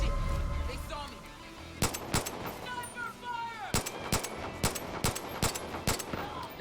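Pistol fired in the video game Far Cry 5, a string of crisp, evenly spaced single shots ringing out close and loud after a stretch of ambient game noise and brief speech.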